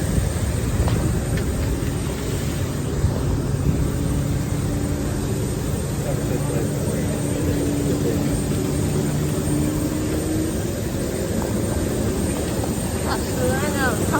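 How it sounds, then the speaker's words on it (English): Continuous low engine rumble on an airport tarmac beside an Embraer ERJ-175 regional jet, a steady droning hum with faint higher whine, heard from nearby outdoors without a break. "Now we're in the tarmac."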